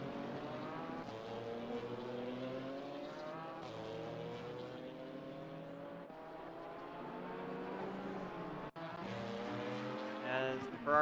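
GT3 and GT4 race cars, including a Ferrari and a BMW, scream along a circuit in a racing game, with engines rising and falling through gear changes in a loud, continuous stream, and a voice talks over them.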